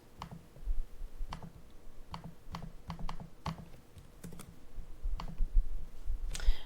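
Crisp mouse clicks sound at a desk while links are posted in Microsoft Teams, some single and some in quick pairs, scattered irregularly over faint room noise.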